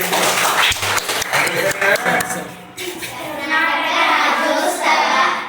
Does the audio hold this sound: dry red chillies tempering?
no